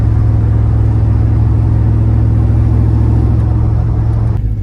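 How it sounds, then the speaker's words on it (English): Steady, loud engine drone of a ZL1500 truck with a 10-speed transmission cruising along a road at about 65-70 mph, with constant low rumble and road noise throughout, no voices. "Truck drives really good for the first time driving it."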